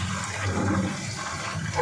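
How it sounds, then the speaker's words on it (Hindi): Water pouring steadily into a pot of cooked masala for chicken tikka pulao, about two litres for a kilo of rice, giving a continuous close rushing and gushing sound with no talk. "अब मैं इसमें पानी डाल रही हूँ"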